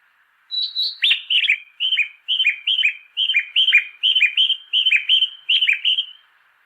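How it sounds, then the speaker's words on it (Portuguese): A recorded birdsong signal plays near the stairs of a Japanese train station, a bright series of repeated chirping phrases in steady rhythm, clear and fairly close with quiet surroundings. "Esse canto delicado ecoa próximo às escadas e serve para orientar deficientes visuais para ajudá-los a encontrarem as saídas das estações"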